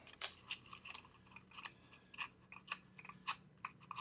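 Scissors snip through a sheet of clear acetate for a journal, a string of crisp, quiet, close-up cuts in an uneven rhythm with soft pauses between them.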